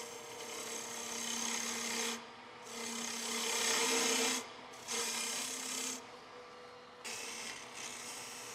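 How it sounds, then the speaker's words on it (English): Hand saw cutting a dovetail in a wooden peppermill blank, steady rasping back-and-forth strokes in several bursts separated by short pauses, close and fairly loud with no talking. "Cut the dovetail on this side."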